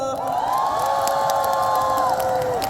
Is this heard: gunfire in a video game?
no